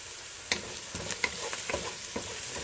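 Spaghetti sauce is stirred in a pot with a handful of soft, irregular scrapes and taps, quiet and close, with no talking.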